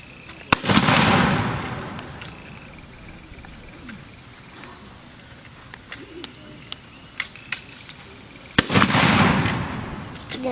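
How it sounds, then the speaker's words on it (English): Two loud, sharp gunshots from an 1898 war reenactor's rifle, one near the start and one near the end, each ringing out with a long echoing tail, with faint outdoor chatter and small sounds between them. "So I'm also going to fire a couple shots to show you how much quicker we can do this."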